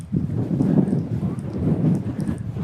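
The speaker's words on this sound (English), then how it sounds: "It's terribly windy." Strong wind buffets the microphone on a walkway in north Queensland in continuous low roaring gusts, swelling and easing throughout with no other sound.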